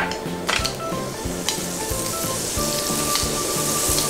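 Butter melting and sizzling in a heated frying pan: an even, crackling hiss that holds steady throughout, with a rhythmic low tonal backing running underneath.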